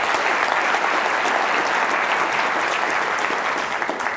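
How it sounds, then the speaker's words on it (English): A crowd applauds steadily, a dense wash of clapping hands that holds at an even level throughout, fairly loud. "give them a round of applause as they come up"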